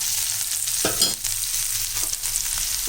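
Onion sautéing in a pan for an avarakkai poriyal, a loud continuous sizzle with a few scraping stirs, close and steady, with no voices.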